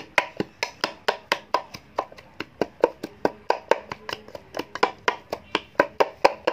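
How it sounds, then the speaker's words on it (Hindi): Lemon and mint are pounded in a vessel for lemonade, producing a quick, steady series of close, sharp thuds at roughly three strikes per second without pause. "ये देखिए लेमन अभी क्रश हो रहा है, अभी थोड़ा सा और करेंगे हम क्रश।"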